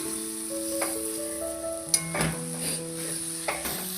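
Cooked, softened tomato being stirred in a pan for a Kerala-style chicken curry: a soft sizzle runs throughout while a utensil scrapes and taps the pan a few times, with no talking.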